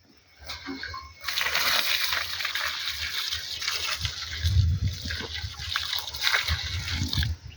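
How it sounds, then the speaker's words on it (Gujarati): Newly planted pineapple plants in a field being irrigated: a continuous, fairly loud splash and gush of water that starts after a short quiet opening and runs on with uneven surges. "ત્યારબાદ આપણે એને પાણીનો પાણીની સિંચાઈ કરી દેવાની છે જોઈતા પ્રમાણમાં"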